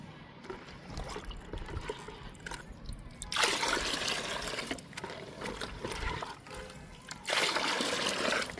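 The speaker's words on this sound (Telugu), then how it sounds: "ఫస్ట్ ఈ రైస్ వాటర్ని బాగా కలుపుదాము." Fermented rice water sloshed and swirled by hand inside a bucket, wet splashing and trickling in uneven bursts, louder stretches of churning between quieter dribbles, heard close up.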